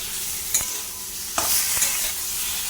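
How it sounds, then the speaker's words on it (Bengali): Boiled papaya, potato and tomato stir-fried with onion in a hot pan: a steady close sizzle with a few sharp spatula scrapes, the loudest near the start and middle, and no talking. "এবার দিয়ে দেবো পেঁপে সেদ্ধ, আলু সেদ্ধ, টমেটো সেদ্ধ, ভালো করে দিয়ে কষিয়ে নেব।"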